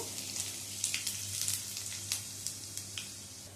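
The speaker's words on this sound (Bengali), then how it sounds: "এই তেলের মধ্যে ফোড়ন দিয়ে দিচ্ছি রসুন কুচি" Chopped garlic, four or five cloves, frying in hot oil as the tempering for a chilli potato paneer ball dish, giving a steady close sizzle with scattered crackling pops, with no voice over it.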